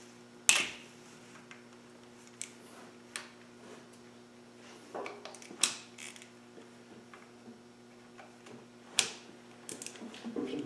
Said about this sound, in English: the next thing we're going to do is take the spill rail off with an 11mm key